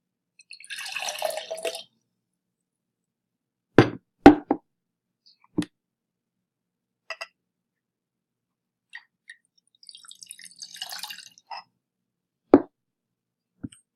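Vitamin C and cornstarch solutions are poured into a container, a short trickle and splash followed by scattered drips and plops, then another brief pour, quiet and close with long silent gaps.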